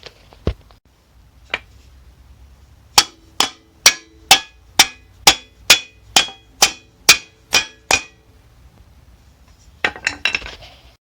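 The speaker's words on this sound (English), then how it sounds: "take a rubber mallet and tap on the chamber a little bit towards the back of the bike, and it'll pop right in" Rubber mallet tapping an exhaust expansion chamber into place on a two-stroke Honda CR125 dirt bike: a few scattered knocks, then a steady run of about a dozen evenly spaced sharp taps, close and loud, with a final cluster at the end.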